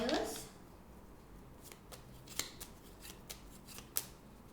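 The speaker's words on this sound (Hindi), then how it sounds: "let's shuffle the cards first" Tarot cards being shuffled by hand in a quiet indoor setting: a brief burst of riffling at the start, then a string of soft, scattered card snaps and flicks spaced irregularly, faint and close with no talking.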